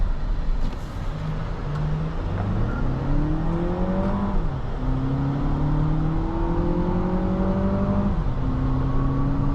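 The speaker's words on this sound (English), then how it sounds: "Definitely very improved acceleration over the TX350." 2024 Lexus TX 500h F Sport hybrid SUV accelerating, heard from inside as a rising whirring engine note that climbs through several gear steps under steady road noise, without talk.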